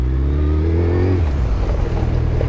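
A motorcycle engine nearby climbs in pitch as it revs, then settles into a loud, rough, sputtering run with no talking.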